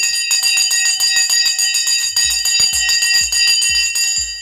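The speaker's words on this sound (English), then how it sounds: "The bell has gone." Opening bell for a trading session clangs in a rapid, sustained ring, loud and continuous, with repeated low thumps joining midway through; no voices.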